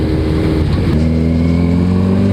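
A Suzuki Hayabusa motorcycle engine revs loud and close with a steady buzzing drone, then climbs slightly in pitch and holds an even, smooth note.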